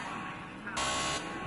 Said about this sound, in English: as we hear the beeps